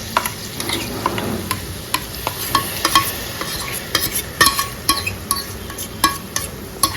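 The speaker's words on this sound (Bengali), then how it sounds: "পেঁয়াজটা এখন আপাতত একটুখানি কষিয়ে নিচ্ছি" Onion being sautéed with ginger garlic paste in a pan, a soft sizzle under rapid, regular scraping and tapping of a spatula against the metal, close and clear, no talking.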